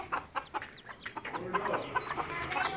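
Backyard chickens clucking nearby, a busy overlapping run of short clucks and higher squawks from several birds with no voices.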